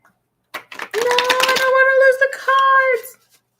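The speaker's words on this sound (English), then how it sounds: "Well, I shuffle this deck and make it all awesome." A deck of playing cards is shuffled close up, giving a quick burst of rapid fluttering clicks that lasts a couple of seconds, with a sustained voice-like tone sounding over the latter part.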